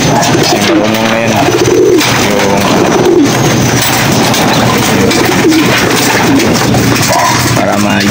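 Pigeons coo repeatedly at close range in a soft, throaty rhythm over a constant loud background hum, with a voice murmuring faintly underneath.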